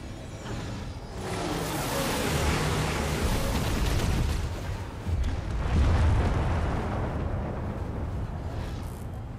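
Cannon fire in the game Guild Wars 2: a sustained, loud rumbling roar of explosions lasting several seconds, dense and booming, with no clear gaps.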